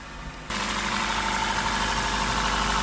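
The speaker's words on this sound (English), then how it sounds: "So the vehicle is running." A 2014 Honda Grace Hybrid with a serial communication fault runs with a steady, loud engine hum and drone that starts abruptly and holds constant with no break.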